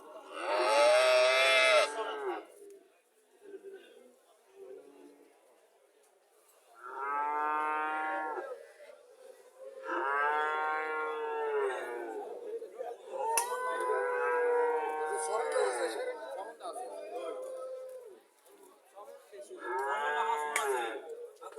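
Cattle moo loudly and close by at a cattle market, about five long, drawn-out calls separated by short quiet pauses.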